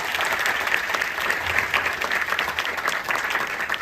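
An audience at a Marathi comedy and talk show breaks into continuous, dense applause, steady and fairly loud throughout with no voices over it.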